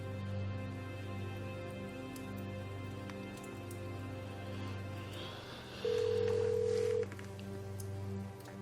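A telephone call goes unanswered, with a single steady ringback tone of about a second sounding over a quiet background hum.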